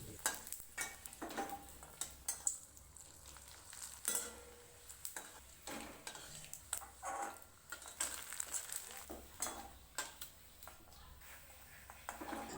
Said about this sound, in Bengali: এবার আমি পাঁপড়টা ভেজে নেব।